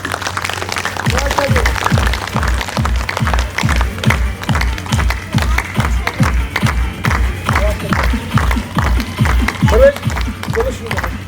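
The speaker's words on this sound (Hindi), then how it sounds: "तालियां बजाइए आप लोग मेरे।" An audience claps in steady unison at a motivational talk held at a hospital in Lucknow, loud rhythmic beats roughly three per second keeping up for the whole stretch, with a few scattered voices calling out over it.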